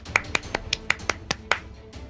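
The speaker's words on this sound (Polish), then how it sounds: "Klaszcze." A single person clapping, about nine sharp, evenly spaced claps at close range with quiet gaps between them.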